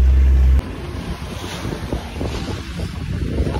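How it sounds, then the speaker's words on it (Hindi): A small boat carries passengers across open water in Tanzania after recent rain, its steady rushing wash of water and wind buffeting the microphone continuously and loudly, with no voices. "हम कश्ती पे बैठ चुके हैं, तो ये चला रहे हैं।"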